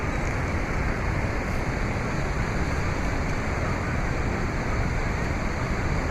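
Broadband rush of a flowing river, loud and close, holding an even level throughout with no voices.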